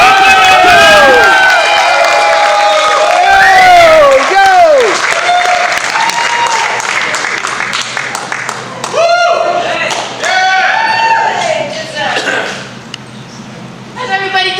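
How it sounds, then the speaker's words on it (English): Theater audience applauding and cheering at a comedy show, a loud sustained wash of clapping with whoops and a voice calling out over it, tapering toward the end. "Clap it up, clap it up."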